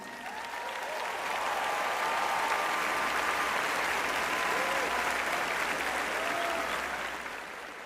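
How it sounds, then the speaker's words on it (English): Applause from a large crowd at a Florida State University summer commencement, clapping swelling up within the first second, holding broad and steady, then tapering near the end, with scattered cheers and whistles over it. "please give them a round of applause"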